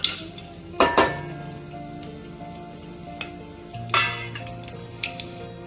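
Whole spices and carom seeds, with bay leaf, star anise and dried fenugreek leaves, crackle in about six tablespoons of hot oil, a steady sizzle broken by a few sharp clinks of utensils against the pan.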